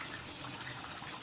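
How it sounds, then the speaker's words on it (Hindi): Half a cup of water poured from a jar into biryani masala while cooking, a steady broadband splashing gush that stays even throughout, close and alone. "जो जार में मसाला लगा हुआ था इसमें आधा कप पानी डाल के ये भी हम इसी में डाल देंगे।"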